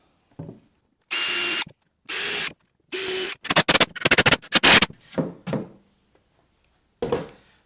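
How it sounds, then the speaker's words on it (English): A power drill whines in repeated short bursts, then chatters as it bites into pallet wood, with quiet pauses and light handling knocks between. "And let's drill those."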